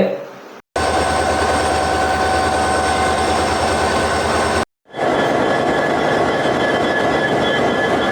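A Rameswaram–Tiruchchirappalli Express passenger train runs with a loud, steady rumble and drone, broken by two brief cutouts, with a voice likely talking over it.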